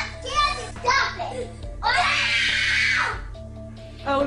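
A child screams loudly and sustained for over a second, shrill and close, set between bursts of other voices talking and shouting in a domestic scene.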